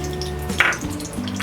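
Ghee sizzling in a frying pan over a burner, a steady soft crackle and hiss with a brief stirring scrape, close and alone.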